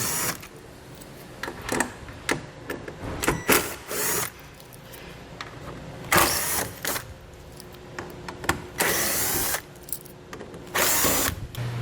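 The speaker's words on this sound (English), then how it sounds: "we're going to remove all of those using a T15 Torx bit." Cordless driver with a T15 Torx bit backing out Torx fasteners on a 2022 vehicle front end during a base plate install, heard as short repeated whirring bursts of varying length, close and fairly loud, with workshop clatter between.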